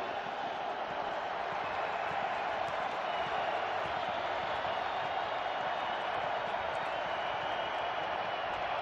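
A stadium crowd at an NFL game between the Denver Broncos and Las Vegas Raiders gives off a steady, distant roar that holds unbroken throughout, with faint voices mixed in.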